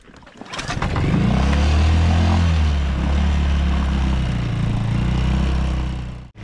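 A small engine, smoking from excess oil after lying on its side, catches and runs at a steady loud idle with a deep throbbing drone at a New Zealand camping and fishing spot, close by, before cutting briefly at the end.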